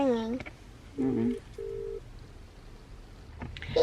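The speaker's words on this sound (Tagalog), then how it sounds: "Tinatawagan ko na yung Domino's. Hindi pa nila sinasagot." A phone call to Domino's rings out through a handset as two short, even, steady electronic ringback tones with a pause between them, quiet and close, while voices are heard briefly at the start and end.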